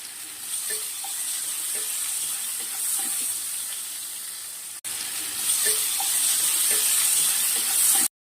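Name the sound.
potatoes frying and sizzling in pan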